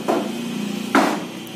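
Two separate hammer blows land on a car body panel in a workshop, the second louder and closer, with a low background hum between them.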